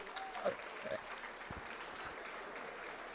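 Applause from a crowd at a political party's annual dinner in a hotel ballroom, steady and continuous throughout, with a few brief voice sounds over it.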